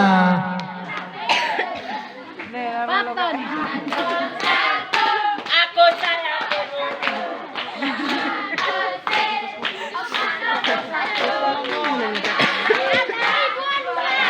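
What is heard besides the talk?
audience clapping for supporters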